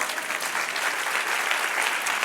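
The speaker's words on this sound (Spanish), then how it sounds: "Dale un aplauso al Señor." Steady, loud applause from a church congregation, a dense wash of many hands clapping at close range with no voices over it.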